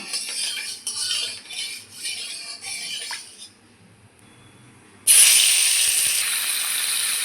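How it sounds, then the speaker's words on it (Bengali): A loud hissing sizzle bursts in and keeps going steadily as small fish drop into hot oil in a wok, after a stretch of quieter clinking and scraping. "কড়াইয়ে দিয়ে দিয়েছি তেল, তেল গরম হয়ে গেছে, মাছ দিয়ে দেব"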